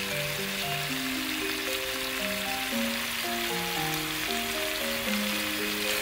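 Bacon rolls sizzle in a pan with sauce poured over them, a steady close frying hiss running the whole time beneath louder melodic music.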